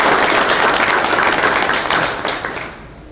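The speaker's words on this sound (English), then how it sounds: "Let's give him one more clap." A crowd applauds at a business chamber event honoring a former U.S. Assistant Secretary of Energy, steady dense clapping that tapers off near the end.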